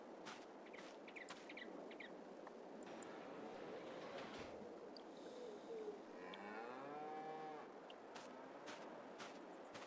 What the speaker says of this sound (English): these cows are noisy.